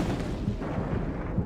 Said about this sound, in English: This film shows what happens during an explosion.